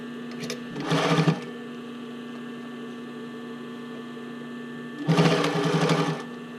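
A sewing machine joins bra cups into the band in two short bursts of whirring stitches about a second long, with a steady electrical hum between them.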